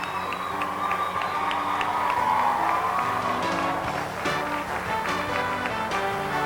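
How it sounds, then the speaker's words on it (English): Steady applause from a school audience at an elementary school Christmas program, honoring fourth grade teachers; continuous clapping with some cheering fills the hall without pause. "How about a round of applause for the 4th grade teachers who are helping us?"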